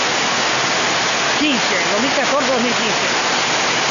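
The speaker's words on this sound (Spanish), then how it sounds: "el aguacero más fuerte de todo el invierno" A heavy downpour in Vinces makes a dense, steady hiss of rain for the whole stretch. A person speaks in the middle, partly over the rain.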